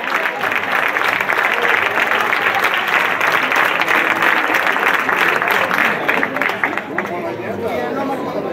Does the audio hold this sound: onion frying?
no